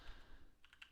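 Computer keyboard typed on while writing code, a short quick run of soft, close key taps, quiet and without speech.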